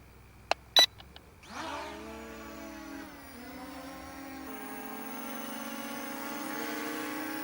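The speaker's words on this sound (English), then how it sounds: "Okay, propeller's going." A small drone on a nature trail spins its propellers up after a few sharp clicks, becoming a steady buzzing whine whose pitch rises and then settles into a constant drone nearby.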